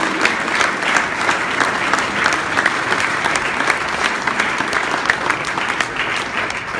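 Reception audience at a New Year's greetings event in Paris City Hall applauding in a dense, sustained wash of many hands, steady and moderately loud throughout, with only faint voices beneath.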